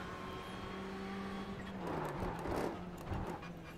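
Ferrari 488 GT3 race car engine in the iRacing sim at Silverstone, a steady near drone climbing in pitch as gears change, with a rougher burst of engine and tyre noise midway.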